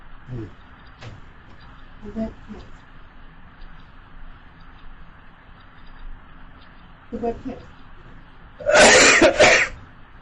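Several short coughs come in small bursts, with a louder, harsher cough near the end, against a quiet room.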